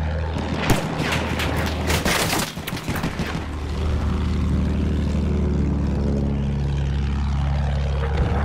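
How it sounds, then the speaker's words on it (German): A World War I propeller plane in Battlefield 1 drones loudly and steadily overhead, its engine hum rising to dominate after a burst of sharp gunfire and blasts at the start. "Flugzeug, aufpassen!"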